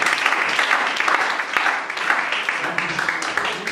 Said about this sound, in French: Vos applaudissements ne sont pas bien dosés.